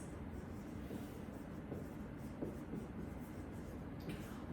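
Chalk or marker scratching across a board in a chemistry lecture hall, a steady run of soft strokes at moderate distance, faint against room noise, with no talking.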